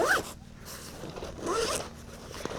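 Zipper on a sling bag's storage compartment pulled in two quick strokes, close and crisp, with no talk.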